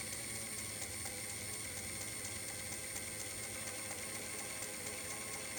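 Hornby King George V R3330 model steam locomotive running slowly, a faint steady mechanical whir with soft rhythmic clicking from the motor and gears, no voices.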